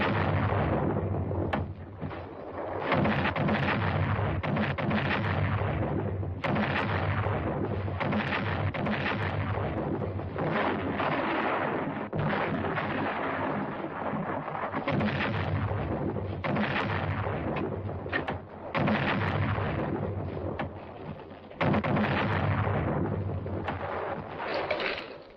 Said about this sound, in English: Number 1 gun, fire!